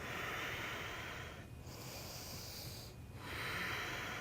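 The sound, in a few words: yoga breathing in warrior 1 pose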